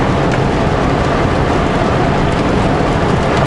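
Steady rain falling on a truck during loading at Adams Lake, a dense continuous broadband patter with no voices.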